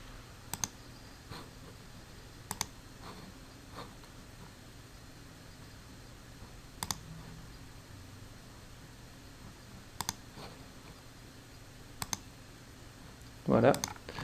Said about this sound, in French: On clique dessus.